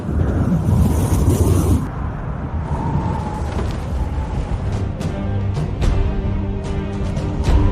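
A strong night wind roars over the water in a historical Chinese war film as a fleet prepares for battle. Sustained, heavy gusts are broken by scattered sharp knocks and creaks.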